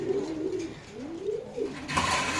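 Pigeons for sale at a market coo close by in a soft, low, rolling call repeated twice, followed by a burst of rustling noise.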